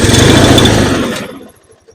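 A free, long-idle lawn mower engine catches and runs loud and rough for about a second, then sputters and dies away, leaving a few faint knocks.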